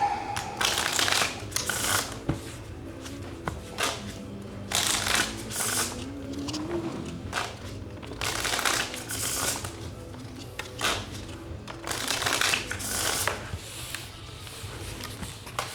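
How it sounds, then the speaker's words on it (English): Playing cards being shuffled at a Hold'em poker tournament table, repeated bursts of riffling and bridging in quick succession with short pauses between, close and crisp. "I shuffle these."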